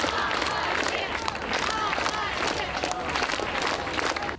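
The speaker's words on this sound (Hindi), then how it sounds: "सैकड़ों की संख्या में टीचरों ने सड़क पर उतरकर राष्ट्रपति अलेक्जेंडर लुकाशेंको के खिलाफ ताली बजाकर प्रदर्शन किया" Hundreds of teachers clap together in a street protest in Minsk, a dense and continuous patter of close, loud hand claps mixed with crowd murmur that never lets up.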